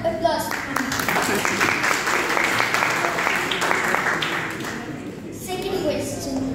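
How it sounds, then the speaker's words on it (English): An audience applauds a correct answer at a talk, with steady clapping for several seconds while voices chatter over and under it before it tapers off. "A round of applause."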